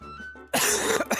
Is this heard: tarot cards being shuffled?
no